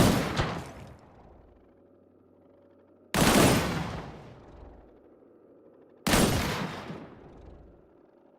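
Three heavy shots in the video game Disintegration, evenly spaced about three seconds apart, each a loud sharp blast with a long decaying tail over a steady low hum.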